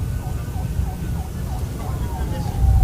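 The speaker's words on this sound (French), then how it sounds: "Le cortège présidentiel avance au rythme des sirènes" Sirens from a presidential motorcade escorted by Republican Guard motorcycle riders at a ceremonial state event, wailing in repeated rising and falling sweeps over a steady crowd and engine rumble, with the sound swelling toward the end.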